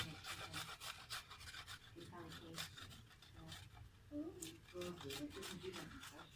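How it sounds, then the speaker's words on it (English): Fresh garlic cloves rasped on a grater over a homemade pizza, a quiet run of repeated scratchy strokes up close, with a faint voice briefly in the background. "I'm gonna grate some garlic on it."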